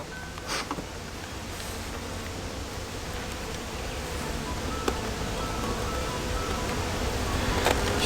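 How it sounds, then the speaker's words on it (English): Honey bees swarm and buzz loudly around an open hive just after a brood frame holding the queen is lifted, a dense, steady drone close by that swells slightly over time. "they were probably just really loud because I just picked up the frame with the queen bee on it"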